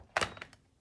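A lid set down on a porcelain gaiwan during a tea rinse after water is poured over the leaves: one soft close clack with a quick second tap, then a light trailing rattle.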